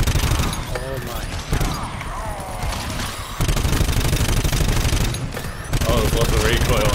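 Gunfire from a heavy-recoil gun in the shooter game GTFO, loud rapid bursts of automatic fire in sustained runs with short breaks, while people talk excitedly over it.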